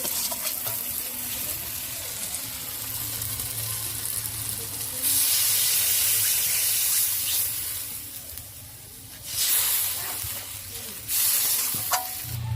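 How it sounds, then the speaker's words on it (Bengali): Water hits a hot pan of frying spices, bursting into loud hissing sizzles that rise and fade in waves over a quieter background bubbling. "এবারে আমি জল দিয়ে দেবো"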